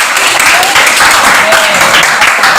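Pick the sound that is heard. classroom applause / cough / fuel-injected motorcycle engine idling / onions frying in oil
classroom applause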